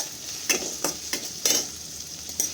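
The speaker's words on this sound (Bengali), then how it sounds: "তারপরে তেলে অল্প নাড়াচাড়া করে পেঁয়াজটাকে" Onion frying in oil with a continuous sizzle, broken by several rhythmic scraping strokes of a spatula across the pan, close and fairly loud.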